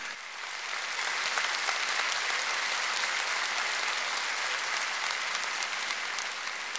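Sustained, loud concert-hall applause from a big crowd at a pop singer's show, thick and steady throughout with no voices over it.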